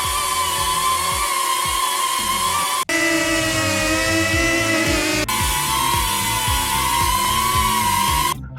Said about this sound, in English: Here is the sound of the Neo 2 and the Flip for comparison.